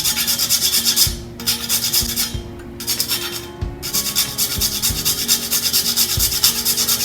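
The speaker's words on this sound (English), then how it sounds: "So this is a nutmeg. I'm going to scrape very light," A whole nutmeg is scraped lightly across a fine grater for crème brûlée, giving steady rhythmic rasping strokes in short bursts with brief pauses between them, close and fairly loud with no talking.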